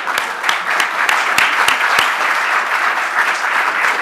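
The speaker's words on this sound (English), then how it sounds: "now everyone else clap for the science teachers" Audience at a climate science education event applauding science teachers, loud close claps with a few sharp individual smacks standing out early, then settling into steady applause.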